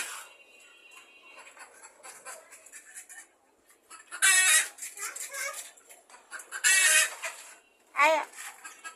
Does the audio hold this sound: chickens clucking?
yes